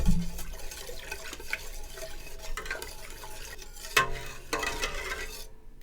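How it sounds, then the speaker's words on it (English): A whisk working through taco sauce ingredients in a stainless steel pot, with continuous swishing and liquid sloshing and a few sharper clinks of metal against the pot, close and moderately loud. "I have a whisk here to just help me combine all of the ingredients"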